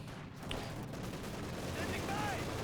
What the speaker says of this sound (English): Gets Molotoved in the face and shot by some SMGs.